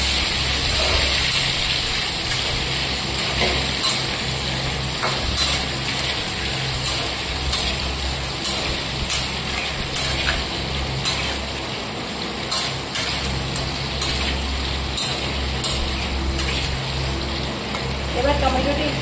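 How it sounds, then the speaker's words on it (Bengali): Tomatoes and whole green chillies fry in a pan with a steady, close sizzle and crackle that runs throughout, with occasional stirring. "এবার টমেটোটা একটু ভাজা হতে দেবো।"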